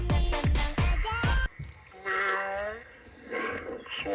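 A monster voice from a voice changer app: a deep, growling, roar-like distorted voice bursts in four rapid pulses, then stretches into a wavering warped moan, loud and close with no plain speech.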